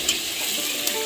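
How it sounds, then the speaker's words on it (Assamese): Hot water poured into a pan of frying duck meat sets off a brief, loud burst of sizzling and hissing, heard alone without talk. "এতিয়া আমি পানী দিম পানীটো আমি এতিয়াও গৰম পানী ইউজ কৰিছোঁ"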